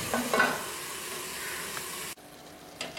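Steady sizzling and frying hiss from brinjal and mushroom sautéing in a pan, with faint stirring scrapes; the sizzle drops abruptly to a quieter hiss near the end.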